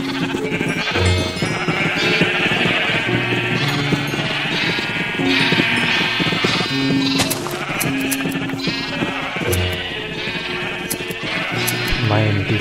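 Sheep in the Minecraft video game bleat again and again, overlapping wavering cries that run steadily with game sounds beneath them.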